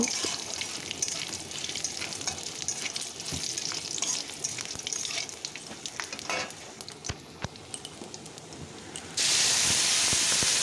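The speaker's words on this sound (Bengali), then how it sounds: "আর এই রকম এলাচ দারচিনি থেকে যখন একটা সুন্দর গন্ধ আসবে ততক্ষণ পর্যন্ত আমি ফোড়নটাকে একটু ভেজে নেব।" Cardamom and cinnamon tempering fry in oil over a low flame for ghugni, giving a continuous close sizzle with scattered stirring clicks and a brighter hiss near the end.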